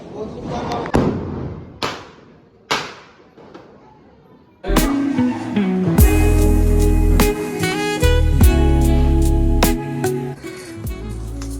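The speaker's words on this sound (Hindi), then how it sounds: "अब चल रहे हैं पटाखे।" A few sharp firecracker bangs with echoing tails, then a rapid string of loud crackling pops and booms over a festive Diwali background.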